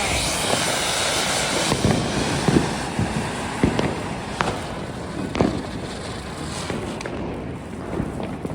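Diwali firecrackers and fireworks go off in the distance, scattered thumps and bangs over a constant whooshing rumble of background noise.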